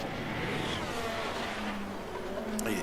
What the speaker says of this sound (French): Norris va s'élancer pour son premier tour rapide.